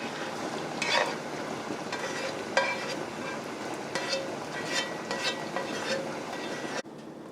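Fried chicken and vegetables for chicken shashlik tossed and stirred in a hot pan, soft continuous sizzle with intermittent clattering scrapes and stir strokes, moderately close, cutting off abruptly at the end.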